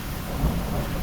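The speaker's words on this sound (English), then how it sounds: "You can probably hear the thunder in the background now." Thunder in a rainstorm, heard through open sliding glass doors: a brief, deep, distant rumble over a steady wash of rain.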